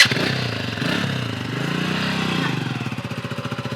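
A motorbike engine runs steadily close by throughout, with a rattling, pulsing idle that turns into rapid regular throbbing near the end; no speech.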